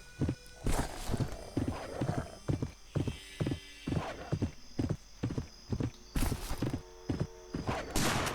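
Horse galloping in the Westbound video game, a steady rapid clip-clop of hooves repeating throughout, close and clear, with faint background game ambience and no talking.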